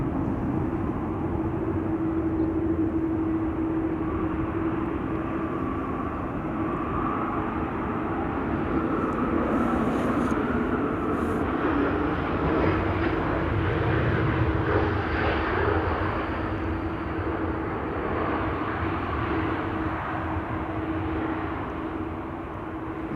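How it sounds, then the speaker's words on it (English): Embraer E195-E2 airliner landing on runway 27 at Amsterdam Schiphol, a steady, continuous jet engine roar that holds at a fairly constant level for over twenty seconds. "E2 Embraer 195 arriving from Krakow,"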